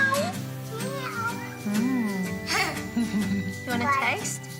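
A young child imitates a cat, voicing several drawn-out meows in a row, close and clear, with bits of speech in between.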